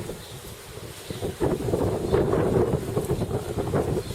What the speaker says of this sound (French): Il y a du vent aujourd'hui en plus.